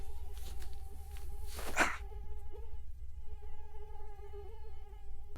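A mosquito hums close by indoors, a thin steady whine that drifts in pitch over several seconds above a low room rumble.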